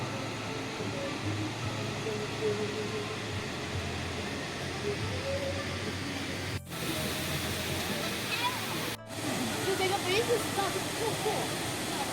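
Steady broad rush of an artificial waterfall fed by lake water in a public park, continuous and fairly close, with no voices over it.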